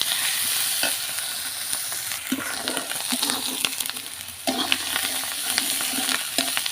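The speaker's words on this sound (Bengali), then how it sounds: "সব কিছু চুলায় দিয়ে দিচ্ছি। সুন্দর করে এখন কষা নেবো। আগে মাছ একটু কষা নেবো" Shrimp and fish sauté with ash gourd in a pan on the stove, giving a steady close sizzle with scraping stirs throughout and no talk.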